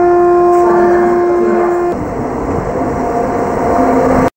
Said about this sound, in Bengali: আমি এই ট্রেনটাই কভার করতে চেয়েছিলাম, তেজাস রাজধানী, মানে হচ্ছে দিল্লি টু ভুবনেশ্বর